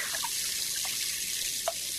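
Shower water runs steadily, a loud, continuous hiss of spray with a few faint drips and splashes, and no one speaking.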